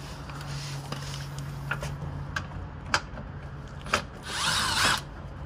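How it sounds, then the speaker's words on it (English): Screws come out from underneath a car during a coolant drain job, heard as faint, scattered clicks and short ratcheting taps over a low steady hum, ending in a brief louder rasping burst. "we're gonna get underneath here and take these screws off"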